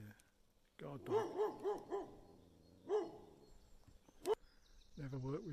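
A dog barks near a private aircraft hangar site on the old Polebrook Airfield: a quick run of close barks, then a single bark and a sharp yelp, with faint outdoor background between.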